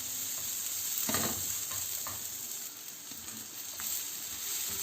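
Onion rings fry on high heat in a pan, a soft steady sizzle with a few light stirring scrapes, fairly quiet.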